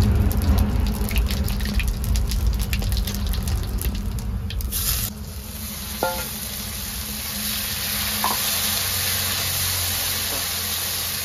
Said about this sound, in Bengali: মশলাটা দিয়ে দিচ্ছি তেলে।